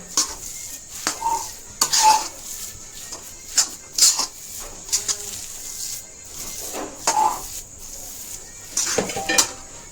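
Besan laddu mixture being stirred in sugar syrup, giving intermittent scraping and clinking of a spoon against a metal pot, in short bursts with pauses, fairly close.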